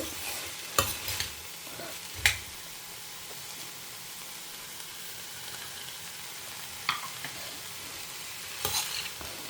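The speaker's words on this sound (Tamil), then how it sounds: "வாழைத்தண்டு நல்லா வதங்கி எடுத்து வெந்தெடுத்து சுத்தமாக அதில் இருக்கிற ஜலம் கூட வற்றி எடுத்து" Chopped banana stem sautéing in a pan for pumpkin moong dal sambar, a soft steady sizzle broken by a few sharp scrapes and clinks of stirring, with no talk.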